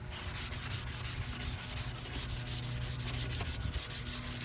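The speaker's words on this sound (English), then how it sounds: "Just sanding with your wire, sanding it, taking out the clear coat too." Steady, rapid back-and-forth sanding scrapes up close as clear coat is sanded off an Acura RSX headlight, a continuous rhythmic rasp with no pauses and no voices.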